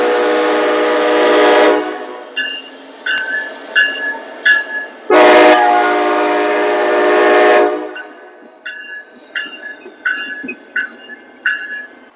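Norfolk Southern freight train with a DPU locomotive passing at night, sounding long, loud horn blasts close by, followed by rhythmic clanks and rattles of railcars rolling past.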